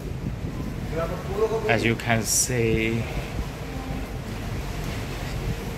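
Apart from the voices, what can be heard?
ferry boat travelling at sea with wind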